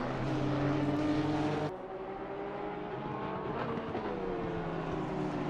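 GT3 race cars, a Honda and a Porsche, in the Assetto Corsa Competizione video game. Their engines give a sustained whine that shifts pitch as they run flat out on a straight, with an abrupt drop partway through.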